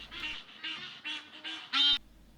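Egyptian geese give a series of harsh, honking calls in quick succession on the open savanna of Kenya's Mara conservancies, the last one loudest and closest.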